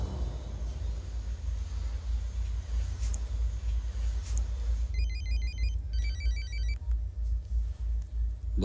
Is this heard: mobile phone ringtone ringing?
yes